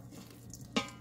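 A spoon stirs breakfast potatoes, ham and eggs inside an Instant Pot, giving a single sharp scrape-and-clink against the pot over a faint background hiss.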